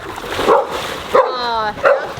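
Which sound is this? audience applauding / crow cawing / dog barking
dog barking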